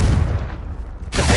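The Confringo explosive spell blasts in the Hogwarts Legacy video game as a single loud, deep, rumbling boom lasting just over a second, ending in a bright crackling burst.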